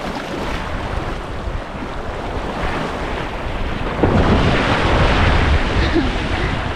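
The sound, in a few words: waves on Bamboo Beach, Koh Lanta, Thailand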